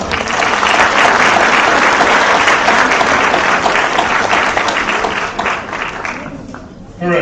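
An audience at a Dean's List award ceremony for a school of science, health and technology gives a loud, sustained round of applause that keeps up most of the time before tapering off near the end.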